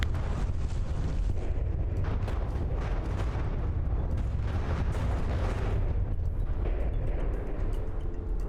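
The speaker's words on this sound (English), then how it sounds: "This looks like big explosions, but it's just the anti-munition bodies." Continuous loud rumbling explosions and booming bursts from anti-munition bodies in the video game From the Depths, dense and overlapping, like a heavy barrage with no pauses.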